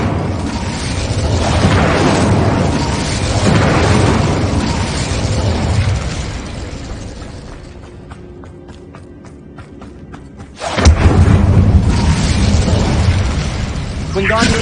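An Incendio fire spell bursting in Hogwarts Legacy: a loud, roaring blast hits near the end after quieter rumbling, with broad crackling fire noise and a voice talking earlier.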